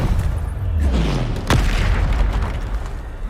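Bombarda blasting spell from Hogwarts Legacy goes off in a loud booming explosion midway, with a sharp crack and a falling rumble, amid busy combat noise.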